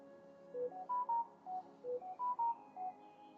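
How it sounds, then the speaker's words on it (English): A mobile phone sounding outdoors in a garden, a sequence of eight clear electronic tones in two rising-and-falling groups of four, fairly quiet and alone with no talk. "Sorry, that's my phone again."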